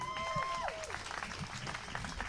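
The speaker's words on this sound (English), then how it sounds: "let's give an applause for Sally" Clapping from a crowd at a press conference, steady and dense throughout, with a brief whistle-like tone near the start.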